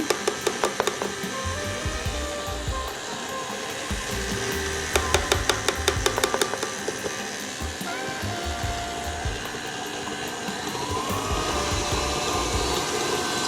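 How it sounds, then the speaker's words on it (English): An electric mixer runs continuously while flour is slowly added for pecan puff dough, a steady loud motor whir with a rapid clicking rattle partway through, no talking. "I'm going to go ahead and start the mixer up and just slowly add the flour in."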